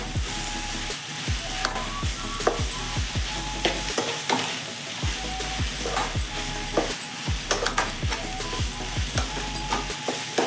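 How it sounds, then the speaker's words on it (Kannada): Drumstick leaves and egg fry sizzle steadily in a pan while a spatula stirs and scrapes in regular, rhythmic strokes, close and clear with no talking. "ಇದನ್ನು ಹಾಕ್ಕೊಂಡು ಮತ್ತೆ ಚೆನ್ನಾಗಿ ಫ್ರೈ ಮಾಡಬೇಕು"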